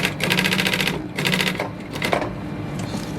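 A sewing machine stitching a logo test, running in short rapid bursts of mechanical clatter separated by brief pauses, close and fairly loud with no talk.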